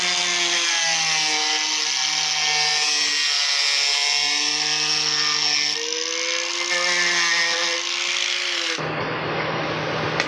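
A powerful angle grinder cuts into a Honda Transalp motorcycle frame during a rebuild, producing a loud, steady high-pitched whine whose tone wavers under load, then abruptly drops away near the end.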